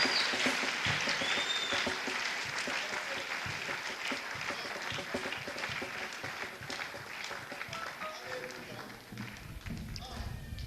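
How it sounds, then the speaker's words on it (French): A church congregation applauds a pastor, a sustained wash of clapping that slowly fades, with voices talking over it. "J'aimerais qu'on l'acclame très bien"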